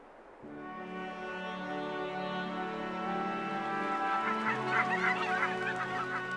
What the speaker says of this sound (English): Whooper swans rest in their thousands in the north of Germany